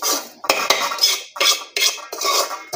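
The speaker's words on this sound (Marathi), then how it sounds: "हे बघा, रवा मी आता या ताटामध्ये सगळा काढून घेणार आहे।" Roasted semolina is scraped from a pan onto a metal plate in a series of sharp, close metallic scrapes and clinks in short bursts with brief pauses between them.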